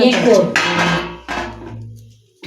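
A ladle scrapes and clanks against a kadai (wok) as oil is stirred, a few close metallic strokes mixed with a voice talking over them.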